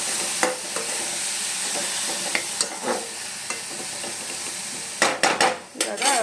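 Vegetables cut restaurant-style for fried rice, salted and stir-fried in a pan, sizzling steadily with repeated scrapes and clinks of a spatula against the metal, louder clattering toward the end.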